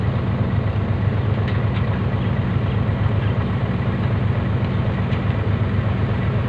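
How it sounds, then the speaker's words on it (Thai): A bulldozer engine rumbles steadily at a low pitch while clearing a road, droning without pause close by. "รถไถทำทางครับ"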